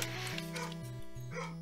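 Several household dogs yip and bark excitedly when someone comes home, a burst of small barks set low under ongoing chiptune game music.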